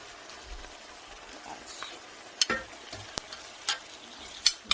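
Leftover taco meat drops into a frying pan on top of a cooked-down frittata base and gets stirred in, with faint sizzling and a few sharp spatula scrapes and knocks against the pan.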